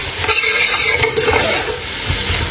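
Onions sizzling in a pan as the base for a lamb curry, a loud close crackle of frying with stirring scrapes throughout, no voices.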